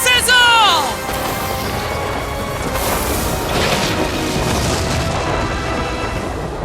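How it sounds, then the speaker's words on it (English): Explosion spell in the Nintendo Switch game Infinity Strash: Dragon Quest The Adventure of Dai, a loud booming blast with rumbling debris that rolls on for several seconds after a brief rising magical tone. "Heat and explosion spells are my forte."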